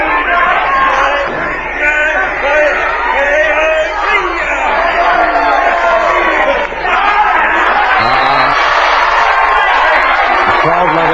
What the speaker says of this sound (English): The crowd love it, but Mick doesn't.